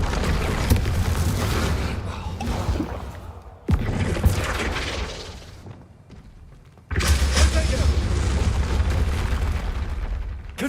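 Loud, booming explosion spells cast in the video game Hogwarts Legacy, with two heavy blasts separated by a brief lull, each followed by a sustained rumbling roar. Voices may be faintly present under the bursts.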